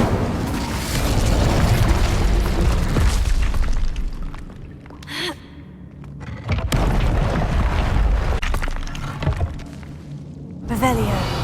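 In Hogwarts Legacy, a fire spell erupts in a loud roaring burst of flame with booming, crackling energy that dies down midway, then a second fiery surge and a final bright flare toward the end.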